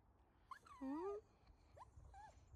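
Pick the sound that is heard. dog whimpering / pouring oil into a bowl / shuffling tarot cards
dog whimpering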